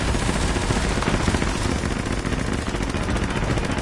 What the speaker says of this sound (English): I hear someone shooting behind me.